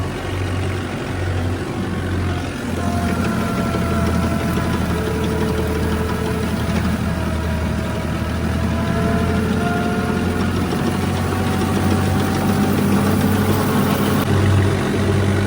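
A tractor engine idles continuously, a steady, deep chugging rumble with faint higher tones drifting over it, fairly close and unbroken throughout.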